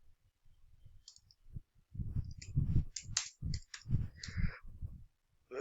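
A computer mouse gives a run of crisp, close clicks that come in quick, uneven clusters, with faint background noise between them.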